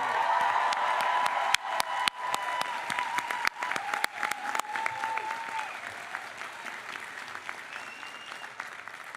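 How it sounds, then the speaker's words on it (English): A graduation ceremony audience applauds in a sustained round of clapping, with sharp individual claps standing out and a faint voice or tone running underneath. "They deserve a huge round of applause."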